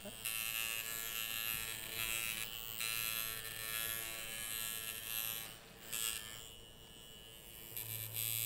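Tattoo machine buzzing steadily in a tattoo studio, a continuous close electric whine that holds through the clip with only small dips in level.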